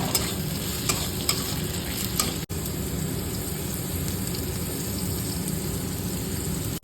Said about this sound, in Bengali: ভালোভাবে একটু নাড়িয়ে তাড়িয়ে নিচ্ছি